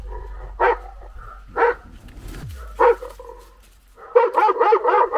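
Recorded dog barks played from a battery-powered electronic caller in a forest, three separate single barks spaced about a second apart, then a rapid burst of yapping barks, loud and near against a faint low hum.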